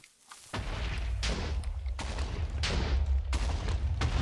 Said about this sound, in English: this explosion may be close enough to knock those off